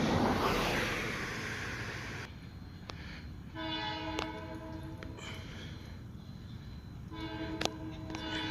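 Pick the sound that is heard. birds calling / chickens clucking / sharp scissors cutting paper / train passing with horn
train passing with horn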